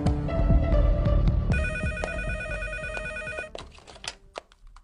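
A telephone bell rings in a Brazilian telenovela scene, sounding as repeated bright electronic trills in bursts over background room sound and scattered noises, with no talking.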